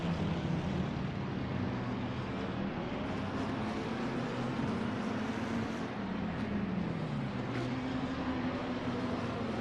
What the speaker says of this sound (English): Hear the roar of the engines down through Blanchimont